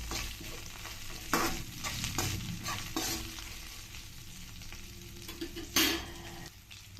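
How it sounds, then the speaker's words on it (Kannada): Cumin and green chillies frying in oil for a spicy avarekai pongal tempering, a steady close sizzle with occasional louder bursts of stirring and spatter, no voices. "ಮೆಣಸಿನ್ಕಾಯಿ ಎಣ್ಣೆಯಲ್ಲಿ ಸ್ವಲ್ಪ ಚೆನ್ನಾಗಿ ಫ್ರೈ ಆದಾಗ ಚೆನ್ನಾಗಿರುತ್ತೆ"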